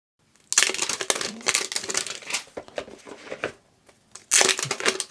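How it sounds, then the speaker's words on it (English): Plastic wrapping is crinkled and pulled off a small boxed device, giving loud bursts of crackling and rustling with a short pause before a final burst, close and alone. "Take the plastic off of these."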